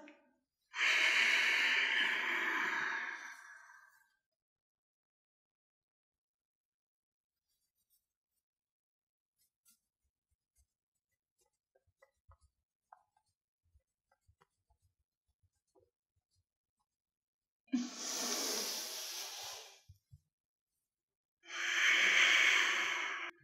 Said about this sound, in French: Longue inspiration. Expire.